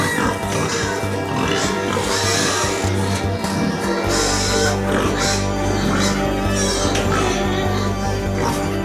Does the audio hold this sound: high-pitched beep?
no